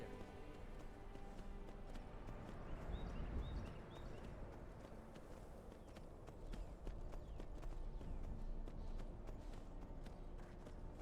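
Hooves drum in a steady clip-clop as a horse gallops in Skyrim, a continuous quiet rhythmic patter with faint background sound and no talking.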